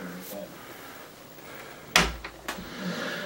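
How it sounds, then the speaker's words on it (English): A closet door in a bathroom being shut, giving a sharp thump with a brief rattle and a couple of smaller knocks afterward, close by in a quiet room. "Let me close this door."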